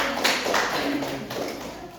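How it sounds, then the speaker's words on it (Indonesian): Group applause in a classroom as pupils clap for the winning team, a fairly dense patter of hands with a few sharper claps standing out, steady for about two seconds. "Beri tepuk tangan semuanya."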